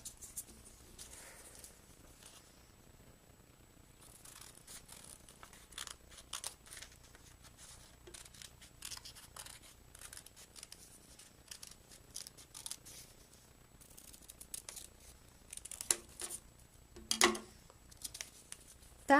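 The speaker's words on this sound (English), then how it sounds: "And then taking your scissors, you just cut it out." Scissors cut a folded paper heart out of a card cover, quiet irregular snips and paper rustling spread over the whole stretch, close and soft, with a few louder crinkles near the end.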